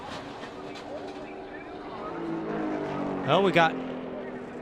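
NASCAR stock cars at speed during a crash-strewn race, engines roaring past with a rising-and-falling pass-by whine near the end, under excited commentary.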